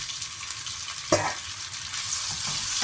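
Blanched fish stir-fries in a hot pan, a continuous close sizzle broken by a sharp scrape of the spatula around the middle and softer stirring afterward.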